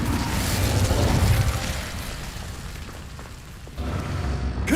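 Fire spell cast in Hogwarts Legacy, a loud, broad whooshing rush of flame that swells early, fades through the middle, then surges again at the end, close and continuous with no talk.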